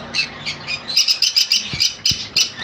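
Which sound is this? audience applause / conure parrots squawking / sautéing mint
conure parrots squawking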